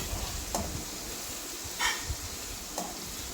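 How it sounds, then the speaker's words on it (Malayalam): Ginger, garlic, mustard seeds and chili sautéing in a pan, a steady soft sizzle broken by a few brief scraping stirs of a spatula. "ഇഞ്ചിയും വെളുത്തുള്ളിയും കടുകും ഉരുവയും ഈ മുളകും എല്ലാം കൂടെ ഇട്ട് നന്നായിട്ടൊന്ന് വഴറ്റണം"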